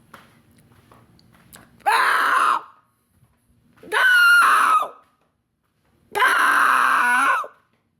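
A man in Temple, Texas imitates a screaming fox with his voice, giving three loud, drawn-out wailing screams, each about a second long, separated by short pauses after a quiet start.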